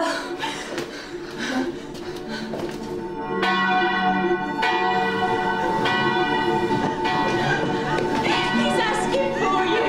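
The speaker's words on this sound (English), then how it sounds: "She won't stop ringing the bell." In an audio drama, a bell rings over and over with bright metallic strikes, the peals layering louder as the ringing continues.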